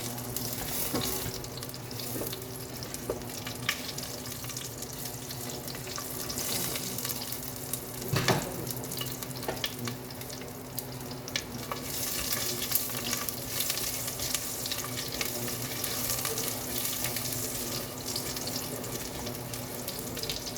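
Garlic frying in a pan, a steady crackling sizzle with occasional stirring clatter, fairly quiet and close, with no talk.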